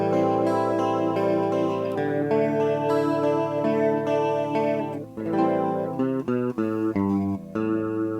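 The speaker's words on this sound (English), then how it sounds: "which is a simulator of a Leslie style rotary speaker" Electric guitar played through a pedal that simulates a Leslie-style rotary speaker, sustained chords swirling and wobbling steadily, then giving way to shorter plucked notes near the end, loud and alone.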